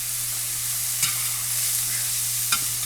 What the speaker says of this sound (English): Get these mushrooms cooking.